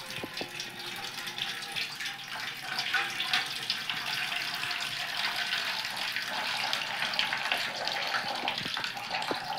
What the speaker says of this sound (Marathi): तर चांगला मोठा नारळ आहे आणि पाणी पण बघा भरपूर पाणी निघालंय.